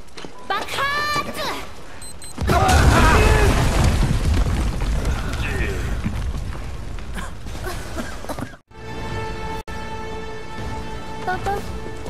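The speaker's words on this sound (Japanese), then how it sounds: "爆発！" A big explosion set off in the video game Final Fantasy VII Remake: a loud burst that rumbles and crackles for several seconds, with music and game sounds before and after.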